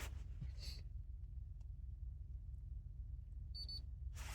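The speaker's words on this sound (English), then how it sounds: "You hear it beep. So it's connected to the car." A short electronic beep from an OBD2 scanner connected to a Hyundai sounds faintly near the end over a steady low engine-like hum, with a couple of brief rustles before it.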